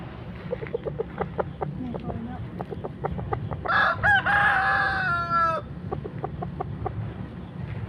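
A fighting rooster at a cockfighting venue gives one loud, near crow lasting about two seconds, set against a background of scattered sharp clucks and clicks and a low murmur.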